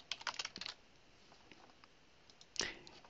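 Quick bursts of keystrokes on a computer keyboard, typing text into a status update on a work social network; a clustered run at the start, a long quiet stretch, then a second short flurry near the end, fairly faint and with no voices.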